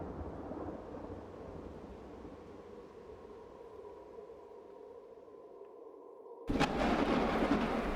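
Thunderstorm in the video game Soulcreek: a steady low rumbling roar of wind and rain swells into a loud, sudden thunder crash near the end, with no talking.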